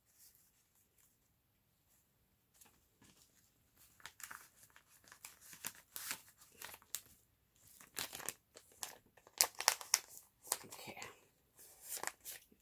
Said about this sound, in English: Another envelope. Let's see what's in here.